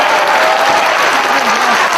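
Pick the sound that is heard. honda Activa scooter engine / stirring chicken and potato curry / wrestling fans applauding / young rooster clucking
wrestling fans applauding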